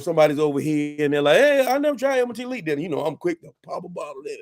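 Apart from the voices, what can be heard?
No distinct noise like a dog, phone or traffic.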